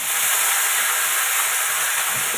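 Food sizzles and fries in a home kitchen where meat and sliced onions and chillies are being prepared, a steady, loud, close hiss with no pauses and no voices.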